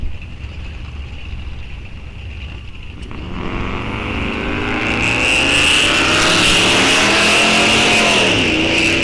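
A flame-painted 1941 Studebaker drag car launches down the strip at Rock Falls Raceway, its engine rising from a distant rumble into a loud sustained roar as it accelerates away.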